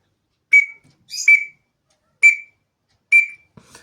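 Four short, shrill whistled calls from a Cherokee duck call, spaced about a second apart, with nothing else sounding between them.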